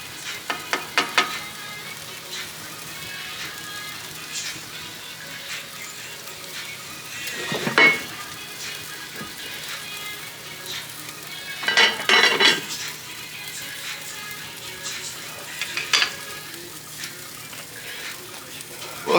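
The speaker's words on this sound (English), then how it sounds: "Got a couple pieces of bacon in there." Bacon sizzles in a pan over a live fire, a steady soft frying hiss broken by a few sharp metallic clinks of utensils against the pan.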